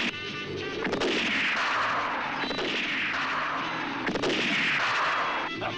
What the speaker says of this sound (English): A rifle that never misses.